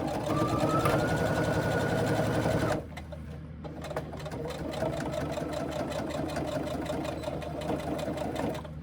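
A sewing machine stitches pleats in fabric, running fast and loud at first, then after a short pause settling into a steadier, quieter hum, with no voices.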